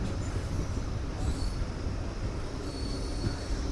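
A train slowing and stopping at a station platform near Basampalli on the Anantapur to KSR Bengaluru route, a steady close rumble of wheels and carriages with faint high squeals of braking wheels, crowd noise around.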